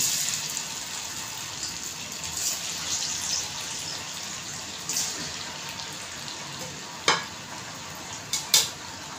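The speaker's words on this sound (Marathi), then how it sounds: "मी आता एक एक असे 4-5 तळून दाखवते." Alu vadi, rolled colocasia leaf slices, deep fry a few at a time in hot oil, making a soft continuous bubbling sizzle with a few sharp clicks near the end.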